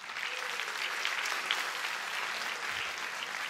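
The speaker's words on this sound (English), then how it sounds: "Please give them a round of applause" Sustained audience applause fills a convention hall during a city charter day anniversary celebration, steady and dense throughout without speech.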